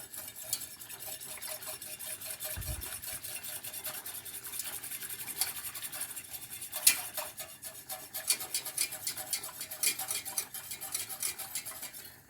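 Butter and milk roux being mixed in a pan gives a busy scraping, stirring and clinking of a utensil against metal, continuous and close with no talking.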